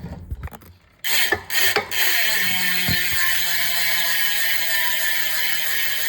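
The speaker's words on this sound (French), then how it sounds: "avec le bruit de la roue libre que voici" A bicycle freehub with a 52-tooth ratchet and ceramic bearings spins freely, giving a loud, fast buzzing click that holds steady and close for several seconds after a brief knock.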